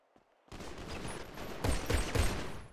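Gunfire in a GTA roleplay game starts abruptly after a brief quiet moment. A rapid, dense burst of shots follows, with several louder cracks standing out near the end. The shooting is close and continuous, with no talking over it.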